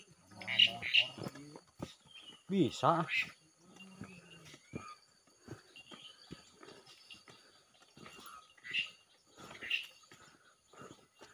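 Several loud, shrill Asian pied starling calls ring out in bursts, with whistles and harsh chattering notes, alongside a brief spoken word and faint insect buzz.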